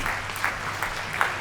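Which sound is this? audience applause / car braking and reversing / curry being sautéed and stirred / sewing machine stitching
audience applause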